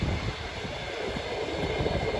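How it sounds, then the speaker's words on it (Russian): A passing train rumbles steadily behind the seaside beach at Adler, a broad continuous low roar with no voices. "Так, откуда едет поезд?"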